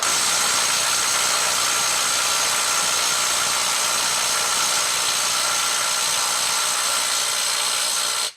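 A Makita 18V brushless right angle impact wrench, fresh battery fitted, running in reverse at mode 3 with a loud, continuous high-pitched whine and hammering buzz that holds steady for several seconds before cutting off abruptly.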